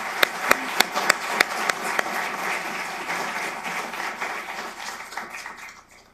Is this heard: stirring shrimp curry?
no